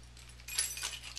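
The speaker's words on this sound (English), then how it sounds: "My keys. Car keys. House key." A bunch of car and house keys taken from a purse jangles briefly, a soft metallic rattle that rises after a quiet start and fades within a second.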